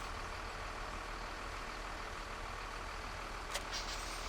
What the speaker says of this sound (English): We'll take our tractor and trailer back here and head back to the farm then.